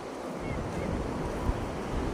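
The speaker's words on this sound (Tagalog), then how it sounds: "Ang babaw ng tubig pero ang laki ng alon." Waves wash through shallow water near a cave, a steady rushing surge with wind buffeting the microphone and no speech.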